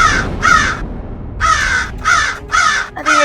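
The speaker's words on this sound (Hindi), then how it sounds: "अरे ये कौवा कहाँ बोल रहा है?" Loud crow caws repeated in a rhythmic series of harsh calls, close by with a short pause after the first two and then four more in quick succession, no talking.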